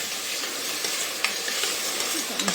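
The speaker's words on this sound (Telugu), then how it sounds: "ఒక 2 నిమిషాలు ఇట్లా కొంచెం ఆయిల్లో వేగితే అది బాగుంటుంది." Chana dal curry sizzles and fries in hot oil in a pan, a steady close crackle with occasional stirring scrapes and clinks of the spoon, no voices.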